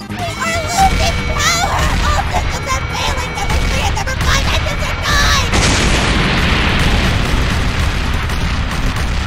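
An airship reactor exploding in a Kirby Star Allies cutscene, loud booming crashes and bursts under cartoon voices, then a rumbling blast that keeps roaring to the end.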